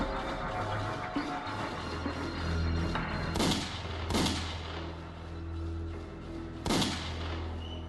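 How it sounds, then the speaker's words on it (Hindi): Video game gunshots during a live game launch event, several loud bursts of fire ringing out over a continuous dense wash of event noise and rumble, with no clear talk. "और ये गन शॉट्स बाय जय सिंह राठौर"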